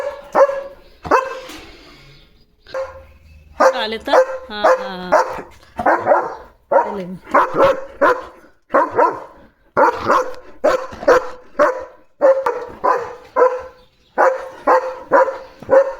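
A German Shepherd barks at cattle passing in front of a gate, sending out loud, close barks in repeated bursts with short pauses. A person speaks briefly.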